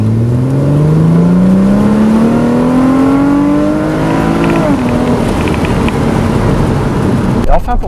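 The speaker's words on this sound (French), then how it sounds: "Et ce SLK 350, c'est une jolie bande son qui part de 1000 tours jusqu'à près de 7000 tours minute." A Mercedes SLK 350 engine revs steadily upward from about 1000 to near 7000 rpm, a loud rising howl that peaks, drops off abruptly, then settles into a rough idle-like rumble.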